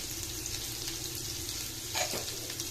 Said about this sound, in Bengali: অল্প একটু পেঁয়াজ কুচি দিয়ে হালকা হাতে এটা বেড়ে নেব